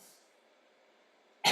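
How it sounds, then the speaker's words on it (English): A single short, sharp cough close by at the end, following near silence, heard alone in a quiet yoga session. "replace your next exhalation with a cough"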